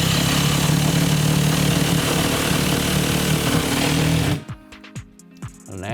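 A loud, steady power drill whine runs for over four seconds driving a long screw into a wooden block, then cuts off abruptly, leaving quiet with a few faint clicks and taps.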